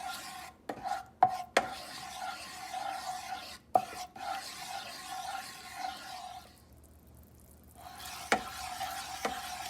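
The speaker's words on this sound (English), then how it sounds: "Keep stirring it. Keep cooking it till the mixture turns dark brown in color." Kada prasad mixture is stirred in a pan, with a spoon rasping and scraping through the thick mass amid a soft sizzle and a few sharp knocks against the pan, then a short lull before the scraping resumes.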